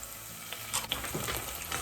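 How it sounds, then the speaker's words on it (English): Garlic cloves cook in a hot pan with a steady low sizzle, broken by a few brief clinks and scrapes of stirring. "I'm gonna start by adding a few cloves worth of garlic, just to let it cook out for a minute."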